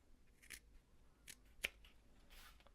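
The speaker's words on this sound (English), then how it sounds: "So snip these little guys off. Do a little snip here" Scissors snip small bits of fabric off the edge of a smock apron during sewing, making about four crisp, close-up cuts spaced irregularly and fairly quiet, with no talking.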